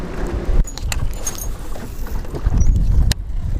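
Wind buffets a fishing boat near the mouth of a river, making a loud, rough rumble of gusts on the microphone with a few brief sharp knocks and rattles from the boat.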